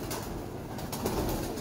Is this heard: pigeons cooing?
yes